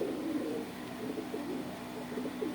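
Soft, low cooing from deshi and Pakistani pigeons repeats in throaty, rolling phrases over a steady background hum, fairly close, with no talking.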